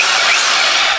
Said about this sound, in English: So let's drill a hole in the concrete and see how it works.